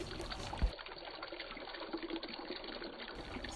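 Water is poured into a vessel of washed chickpeas, a short soft trickle and pour with a small knock near the start, faint and without speech.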